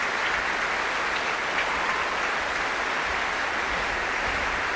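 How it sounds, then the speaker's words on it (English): Roaring applause from a packed Royal Albert Hall audience on the first night of the 1991 Proms, after a performance of Elgar's The Dream of Gerontius, a dense, steady wash of clapping sustained throughout without any speech. "with the applause still roaring away from this crowded house"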